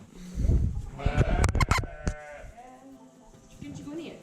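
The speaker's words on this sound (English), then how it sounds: "there's some funny looking sheep." Sheep on a Scottish Highland farm during lambing bleat close by, with several loud calls bunched together early on and fainter ones after, over farmyard noise.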